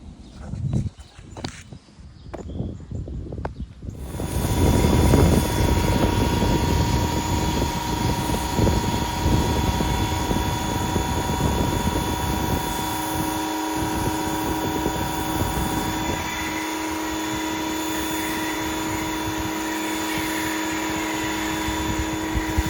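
A cheap $89 electric pressure washer starts up for a car wash after some handling noises, then drones loudly and steadily with a humming motor whine and spraying hiss, its pitch dropping slightly partway through.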